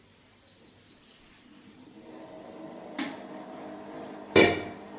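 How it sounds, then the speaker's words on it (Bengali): Frying pan set down on a lit gas stove in a home kitchen, a single sharp metallic clank near the end after a softer knock, with faint background hum. "চুলা ধরে ফ্রাই প্যানটা বসিয়ে দিলাম।"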